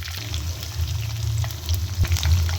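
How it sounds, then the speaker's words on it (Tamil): Chopped big onions sauté in hot oil over mustard seeds, chana dal, cumin and curry leaves for a Tenkasi-style brinjal thokku, a steady close sizzle and crackle running throughout with no talking. "பெரிய வெங்காயம் சேர்த்து கொஞ்சம் நல்லா வதக்கி விடுவோம்"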